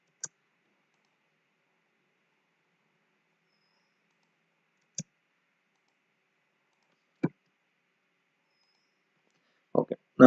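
Mouse buttons click on a computer while drawing in AutoCAD: a few sharp, isolated clicks spaced seconds apart in near silence, then a quick cluster of clicks at the end.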